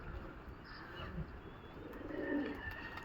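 Pakistani Highflyer pigeons cooing softly outdoors in a loft setting, a few low throaty coos rising midway under steady background noise, with faint chirps from other birds.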